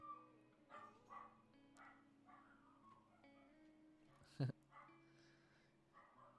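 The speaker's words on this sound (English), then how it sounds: "Let me go quiet down the dogs." Several dogs bark and yip at some distance in a quiet room, scattered sharp barks with one louder burst, heard faintly alongside quiet speech.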